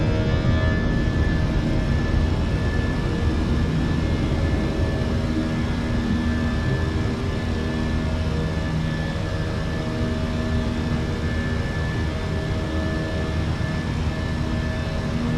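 Airbus A320 climbing out of Hobart in a flight simulator, a steady broadband roar of jet engines with a constant hum and tonal whine held loud and even throughout, with no talk.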